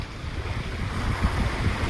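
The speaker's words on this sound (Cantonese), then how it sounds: "今日其實好大風" Strong wind blows across a seashore bay, buffeting the microphone with a low, steady roar and surf rumbling underneath, with no voices.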